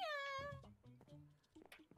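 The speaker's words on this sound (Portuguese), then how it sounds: "Tem um gatinho aqui!" A kitten gives one clear, high, drawn-out meow up close, followed by softer, brief mewing sounds.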